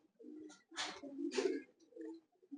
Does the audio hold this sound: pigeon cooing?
yes